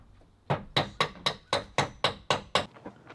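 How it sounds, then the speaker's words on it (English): Rusty nails being worked out of old wood for a Ford Transit Connect van build, nine sharp knocking hits in a fairly steady rhythm, close and clear with no talking. "now we are taking out the rusty nails"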